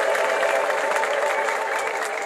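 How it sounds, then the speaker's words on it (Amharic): A church congregation at a gospel service claps together and ululates in praise, a dense, continuous burst of clapping with high trilling voices mixed in. "ለነገስታት ንጉስ ለጌቶች ሁሉ ጌታ እልልታ ጭብጨባ እናምጣለን"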